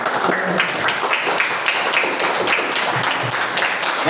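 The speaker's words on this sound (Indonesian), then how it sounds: "Tepuk tangan dulu untuk semua orang di sini." A room full of people at a game-development talk claps together, steady dense applause holding at an even level, with a few sharper individual claps standing out.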